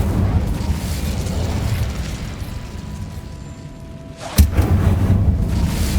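An Incendio fire spell explosion in Hogwarts Legacy, one sharp loud burst breaking over a low rumbling background, then a lingering fiery roar, with no talking.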